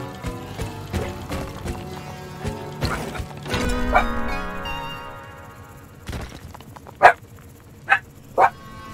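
Three sharp dog barks ring out near the end, loud and close, following a stretch of clattering mechanical and game noises; no speech.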